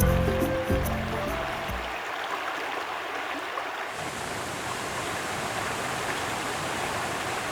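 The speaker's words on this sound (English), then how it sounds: "On its journey to the crater lake, the stream forms a waterfall." A small stream tumbles over a two-metre waterfall on its way to a volcanic crater lake, giving a steady, dense broadband rush of falling water close by, continuous and alone after a brief, heavier burst at the start.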